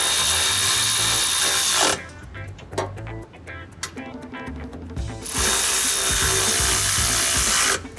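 A power tool with a 15 mm socket tightens the sway bar pivot bolt on a 2020 Ford Explorer, two loud sustained whirring runs at the start and end with a pause of clanking handling between.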